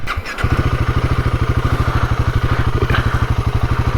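An adventure motorcycle built for off-road riding thumps loudly and close as it climbs steps, a steady rapid engine pulse throughout after a brief quieter start.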